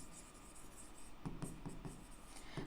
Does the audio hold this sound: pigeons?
no